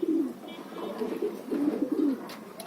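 Pigeons coo in soft, low, throaty bursts, several repeated calls close by with brief pauses between them.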